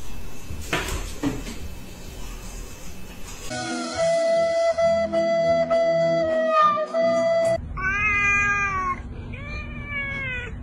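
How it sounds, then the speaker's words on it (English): A cat lets out several loud, drawn-out meows close by near the end, following clattering household knocks and bumps. "Hey, don't pull Kitty's tail."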